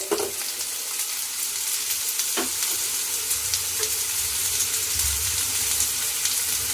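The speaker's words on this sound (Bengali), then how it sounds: "পেঁয়াজের কুচি দিয়ে আমি হালকা নেড়ে চেড়ে" Chopped onions sizzle and fry in a pan while being stirred, for a dried loitta fish bhuna, a continuous close crackling hiss with occasional scraping strokes.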